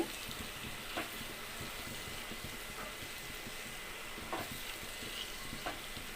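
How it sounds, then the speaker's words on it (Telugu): Tomato pieces and onions with green chillies fry in a pan for a bitter gourd curry, a soft, continuous sizzle broken by occasional scraping stirs. "టమాటా ముక్కలు మగ్గించుకుందామండి"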